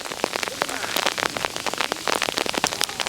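Rain falling steadily onto a hard surface after a snowstorm in Georgia, a dense patter of close, sharp drops throughout with no clear talk.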